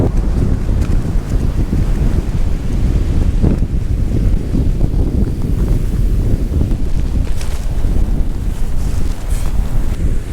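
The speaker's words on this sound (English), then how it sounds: "When you really realize how strong these gusts are is when the sand hits you." Strong hurricane winds roar and buffet the microphone continuously on Lantana Beach on the Florida coast, with heavy surf crashing underneath, loud and close, with no voices.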